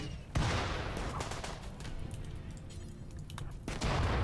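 Sustained gunfire in the colony-survival game Rimworld, a dense mid-distance crackle of repeated shots with sharper bursts near the start and end.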